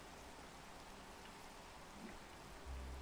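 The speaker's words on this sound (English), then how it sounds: "It's also now raining." Rain falls in a blocky survival video game: a faint, even hiss of steady rainfall throughout, with a soft low thump near the end.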